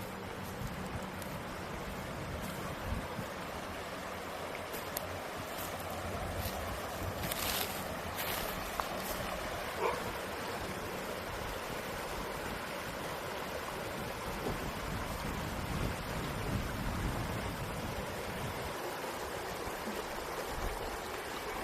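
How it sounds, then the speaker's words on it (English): Creek water flowing outdoors, a steady broadband rushing and burbling that continues throughout, with a few brief handling thumps along the way. "I like listening to the water flow through the creek."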